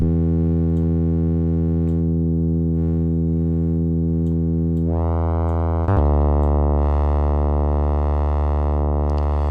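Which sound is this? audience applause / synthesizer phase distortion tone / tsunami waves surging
synthesizer phase distortion tone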